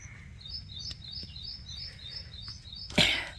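Pigeons in a loft while being fed, a run of soft chirps and high calls repeating close by over a low rumble, ending in a brief louder burst of fluttering and scuffling.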